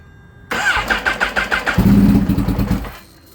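A Kawasaki Ninja H2 motorcycle being started cold: a brief burst of starter cranking, then the engine catches with a loud, rough, close roar before cutting out after a couple of seconds.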